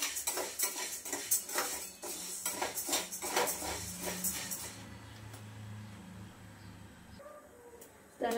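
Wheat grains are dry-roasted in a pan and stirred with a utensil, giving rhythmic scraping and rattling for about five seconds before the sound drops to a quiet, soft background.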